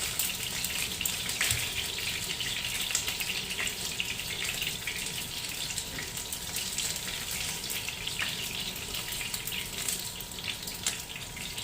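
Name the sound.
spicy chicken frying in spattering oil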